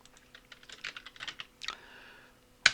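Quick taps on a computer keyboard run in a brisk, close, fairly quiet flurry, followed by a pause and one sharp, louder keystroke at the end.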